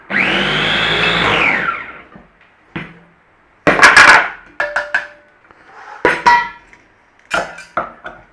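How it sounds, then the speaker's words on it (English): A blender whirs loudly for about two seconds, blending chimichurri sauce ingredients with olive oil, then winds down, followed by a scatter of sharp knocks, clinks and clatters of the jug and utensils. "Now what we're going to do is use half those ingredients to blend in there."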